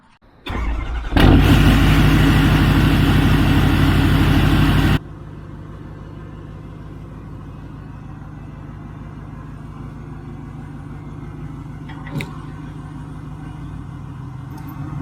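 A pickup truck engine runs loud and close with a burst of revving for a few seconds, then settles into a steady, lower idle rumble with a brief knock near the end.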